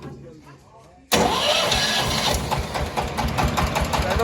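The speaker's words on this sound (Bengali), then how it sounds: "নতুন কেমন ইঞ্জিনের আওয়াজও খুব মিষ্টি আওয়াজ" A new diesel tractor engine cranks and catches abruptly after a quiet moment, then runs loud and steady with a rhythmic knock, voices faintly underneath.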